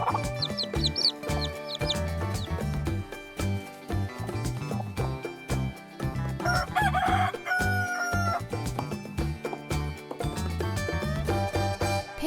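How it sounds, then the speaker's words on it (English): A rooster crows several times and hens cluck on a farm, set over busy background music with a steady beat. The crowing is moderately loud and comes in short, rising bursts. "Roosters crow in the morning"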